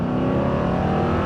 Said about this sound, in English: And being a V8, it's just got that noise.